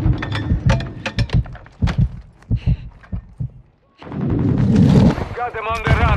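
Gunfire in the video game Call of Duty Modern Warfare 2, with a series of sharp, loud shots in bursts, then a sustained dense roar of heavy firing and explosions near the end, alongside game voice chatter.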